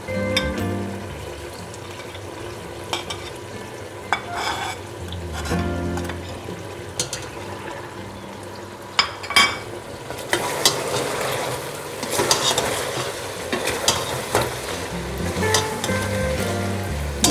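Spices fry in a pot of biryani base, giving a continuous sizzle and bubbling with frequent scraping and clanking of a spoon against the metal. The sizzle grows louder and busier toward the end as more goes in.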